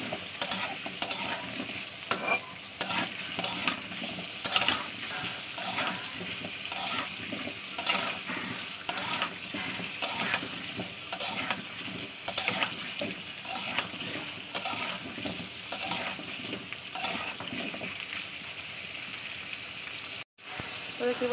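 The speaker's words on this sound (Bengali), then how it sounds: "তেলের সঙ্গে পেঁপে আলুটাকে প্রায় 1 মিনিট ধরে ভালোভাবে করবো।" Papaya and potato pieces fry and get stirred in hot oil with no spices added yet, a steady broadband sizzle with frequent scraping stir strokes, close and fairly loud throughout, with no talking.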